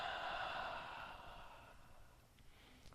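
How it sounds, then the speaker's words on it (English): A single deep breath drawn in during a stress relief exercise, a soft airy rush that is strongest at the start and then fades away, heard alone and close. "Deep breath in."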